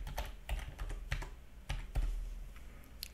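A password is typed on a computer keyboard in irregular bursts of crisp, close key clicks, with a few louder strikes spaced through a quiet room and no talking.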